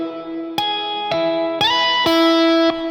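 Bell-like artificial harmonics plucked on a guitar, five ringing notes each struck sharply and sustaining into the next, bright and clear with no talking.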